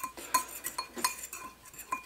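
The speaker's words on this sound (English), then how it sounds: "I just take a fork and mix all of it together" A fork whisks taco seasoning spices together in a bowl, making quick light metallic clinks and taps against the dish in an uneven rhythm, close and fairly clear with no talking.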